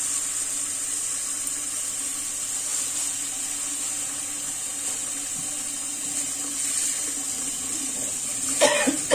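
Black olives rinsed under running water in a sink, a steady hiss of flowing water with faint handling noises and a brief clatter near the end.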